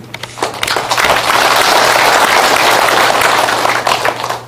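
An audience at a Korean veterans' association lecture in Gwangju bursts into loud, sustained clapping that swells quickly and holds at full strength before tapering slightly at the end.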